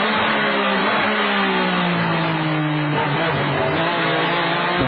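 A GT race car at the 2000 FIA GT round at the A1 Ring pulls hard out of a corner and over an uphill crest, its engine revving loud and rising in a sustained, close roar.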